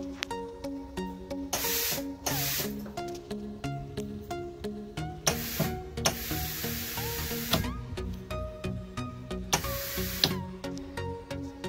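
Repeated bursts of hissing spray from a car's intercooler water sprayer, several seconds apart, over a busy mechanical whir and clicking background, with no talking.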